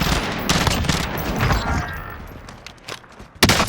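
Gunfire in the Call of Duty: Warzone battle royale game, a dense run of rapid shots and bursts, with a sharp, loud crack near the end over busy in-game battle noise.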